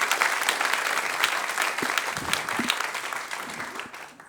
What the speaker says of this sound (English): Please giving it up. Warm applause.